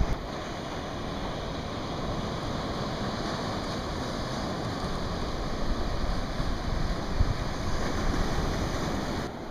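Small ocean waves roll in at a surf beach, a steady broad wash of surf with gusty wind buffeting the microphone, swelling slightly near the end, with no voices.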